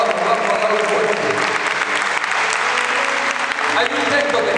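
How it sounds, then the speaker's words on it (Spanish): A church congregation bursts into loud, sustained applause, dense clapping filling the room while a voice speaks over it. "si va a aplaudir, hágalo fuerte para Jesús"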